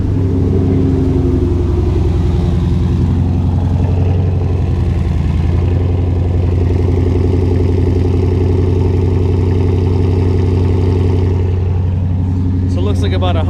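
A 6.1-litre Hemi V8 engine idles loud and close with no mufflers or resonators, only a catalytic converter, a deep throbbing rumble holding steady throughout, with a brief rise near the end.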